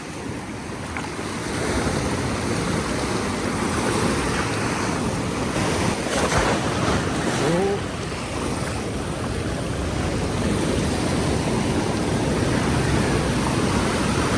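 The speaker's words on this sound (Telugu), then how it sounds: "ఆ టైడ్స్ చూడండి వస్తూ ఉండేది" Continuous roar of monsoon surf washing in at Cabo de Rama, Goa, broad and steady with gusty wind noise over the microphone; no voices.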